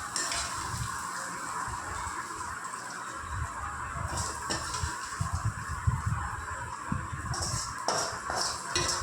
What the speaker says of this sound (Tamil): நல்லா கலக்கிட்டு கல்லுப்பு போட்டு கலக்கிக்கணும் லாஸ்ட்டாக